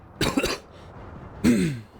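A man clears his throat and coughs in two short, close bursts, the first rough and broken, the second a single louder hack, with quiet room tone between.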